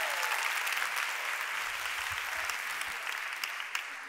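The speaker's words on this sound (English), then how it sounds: "Can we give them another round of applause," A conference audience applauds after a performance at a summit in Toronto, a steady wash of many hands clapping at moderate distance, sustained and gradually tapering near the end.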